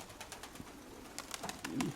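A pigeon coos softly in a loft, low faint calls mixed with brief fluttering and pecking sounds nearby.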